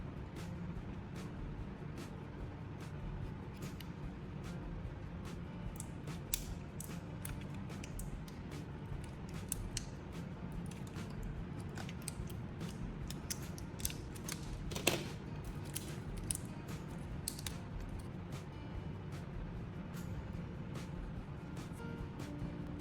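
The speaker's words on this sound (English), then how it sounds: "Removing the battery casing and taking out the core is pretty simple" Casing being pried off a battery to remove the core, heard as faint scattered clicks and small scraping and cracking noises over a low steady background hum, with no talk.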